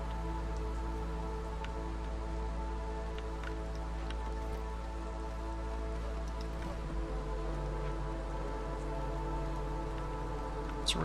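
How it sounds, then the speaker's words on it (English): Steady rain from the video game Against the Storm, a continuous moderate hiss of falling drops with a few faint scattered taps, laid over soft sustained background music. "It's raining, but it's not raining too bad."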